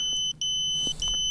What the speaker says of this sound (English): I better start another beeper signal to let you know where I am.